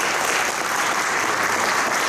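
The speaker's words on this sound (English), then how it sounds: "Give him a round of applause." A lecture audience applauds to welcome a speaker, with dense, steady clapping throughout, loud and close with no voices over it.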